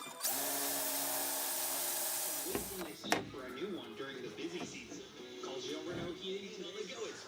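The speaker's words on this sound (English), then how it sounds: "first centering and drilling a 1/8 inch hole in the L" A power drill whines steadily up close for a couple of seconds, drilling a 1/8 inch hole in metal L angle, then stops with a clunk, followed by clattering handling noises and a person talking.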